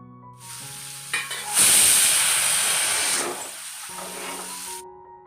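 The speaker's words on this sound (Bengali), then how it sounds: "এই মাছটি আমি হচ্ছে একটু বেশি করেই ভাজলাম" Fish fries in oil in a home kitchen pan with a loud, close, broad sizzling hiss that swells suddenly, holds steady, then settles to a softer crackle, with a faint tonal hum before and after.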